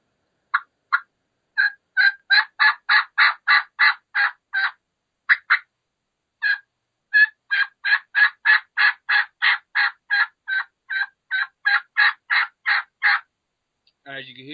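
A turkey call worked to imitate a hen's transition yelp, two dozen or so sharp, evenly spaced yelps in quick runs with brief pauses, loud and close and alone.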